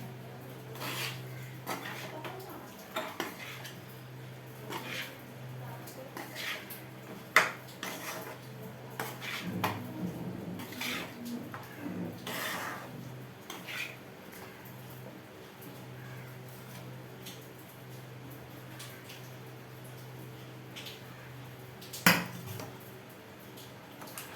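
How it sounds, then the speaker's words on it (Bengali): Biryani being stirred in a cooking pot: repeated close scrapes and clinks of a metal spoon against the pot, with a low steady hum underneath throughout. "এইভাবে আমি নেড়ে চুড়ে নিচ্ছি"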